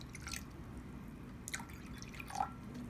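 Vinegar poured into a glass to make a mixture, heard as a few faint, quiet trickles and drips spaced apart, with no talk.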